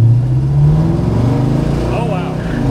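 A 1969 Oldsmobile 442 Holiday Coupe accelerating hard in second gear, its loud, close engine roar rising steadily in pitch from inside the car, with a voice talking over it.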